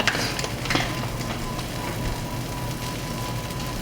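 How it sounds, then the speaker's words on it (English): Bread fries in butter in a pan over low heat, giving a steady, even sizzle with soft crackle that holds at a constant level throughout, with no voices over it. "the sizzling itself is just from the butter from the bread"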